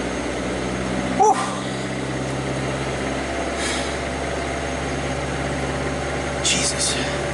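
A Suzuki Samurai's engine runs at a high idle with a steady, continuous drone, close and even, broken by a couple of brief sharp knocks.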